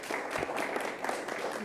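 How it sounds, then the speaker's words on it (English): An audience at a school district board meeting applauds, faint and a little distant, in a brief soft patter of clapping. "round of applause"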